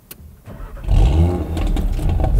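An Audi TT RS 8S engine cranks and fires up with its exhaust flaps open, a brief starter whirr giving way to a loud, deep rumble that settles into a strong idle close by.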